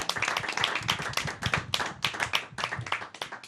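A small group claps in a brisk, uneven burst of applause for candidates at a council debate, moderately close and fairly quiet, with no talking over it.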